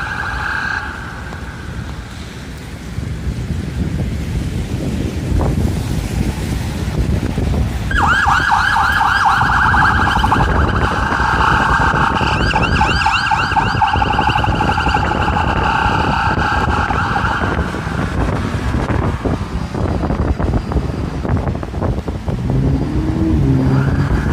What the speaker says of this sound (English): Police car coming.